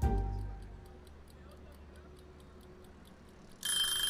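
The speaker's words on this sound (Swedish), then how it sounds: "En egg timer. Kan jag sätta igång den?" An egg timer ticks inside a cooking simulator video game, a faint, steady, regular tick under low background noise, ending in a louder burst that sounds like a ring.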